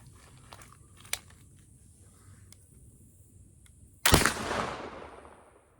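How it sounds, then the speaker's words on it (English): A flintlock rifle loaded with 70 grains of real black powder fires one loud, sharp shot after a quiet stretch with faint clicks. The shot ends in a long rumbling tail. "with real black powder, the Flintlock shoots pretty good"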